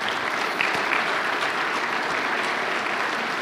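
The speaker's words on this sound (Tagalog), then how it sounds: "Lakasan nyo yung palakpak nyo" A congregation at a preaching service claps loudly and continuously, forming a dense, sustained wash of applause with no breaks.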